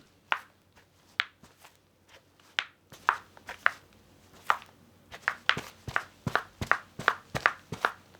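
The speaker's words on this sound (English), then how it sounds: "That's why it makes this weird clicking sound whenever I'm walking." Footsteps from a broken shoe with sharp clicking taps, each step producing a crisp click, irregular at first then quicker and steady, fairly quiet and close.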